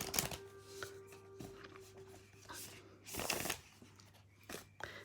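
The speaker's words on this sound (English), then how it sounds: "And the more you shuffle them, the better they get to be shuffled." Oversized oracle cards, taller than ordinary tarot cards, being shuffled up close, with soft papery riffles and sliding swishes, quiet and intermittent.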